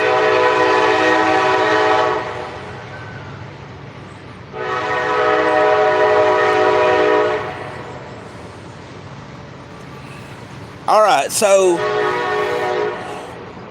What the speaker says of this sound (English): Sorry about the train, give me just a moment.